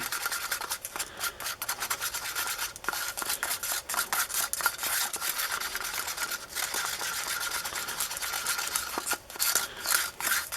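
A tool scrapes the walls of a mixing cup while casting resin is stirred, giving quick, continuous rasping strokes in a busy rhythm for several seconds, close and fairly loud.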